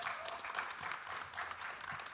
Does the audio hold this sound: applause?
yes